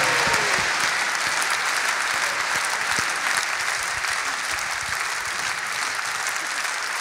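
A concert audience applauding a jubilee concert, dense sustained clapping from a large crowd filling the hall, continuous and loud throughout without a break.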